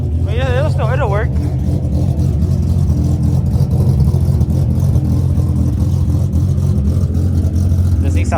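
Modified car engine with an offset-adjusted motor, idling loud and rough with a steady low rumble throughout, close up; a voice briefly speaks early on over the engine noise.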